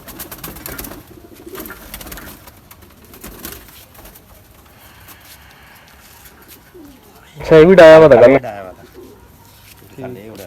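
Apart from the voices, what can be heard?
pigeons cooing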